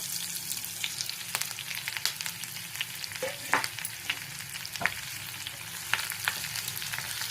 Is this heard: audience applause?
no